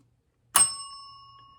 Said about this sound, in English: And that bell can only mean one thing